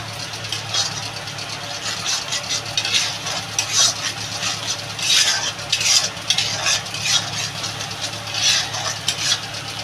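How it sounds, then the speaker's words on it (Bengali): Spice paste fries in oil for a Bengali prawn curry, a loud close sizzle with rhythmic scraping of a spoon stirring the pan over a low hum. "এবার মশলাটা ভালো করে কষাবো"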